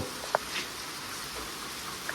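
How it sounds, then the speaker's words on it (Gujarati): Heavy rain falls steadily in Nilakha village after hours of continuous downpour, a soft, even wash of rain noise with a couple of sharper drips standing out nearby. "છ વાગ્યા પણ વરસાદ હજી ચાલુ છે"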